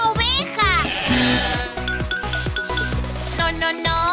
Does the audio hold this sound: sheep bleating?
yes